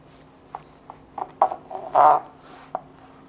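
A knife slicing through slow-roasted brisket that was held overnight in a Blodgett combi oven: several short, close cutting scrapes, then one longer stroke and a final quick cut.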